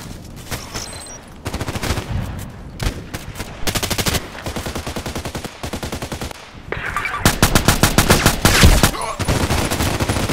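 Rapid bursts of SR2M Veresk submachine gun fire in the shooter game Contract Wars, loud and close, with repeated volleys separated by short pauses and a long sustained burst near the end.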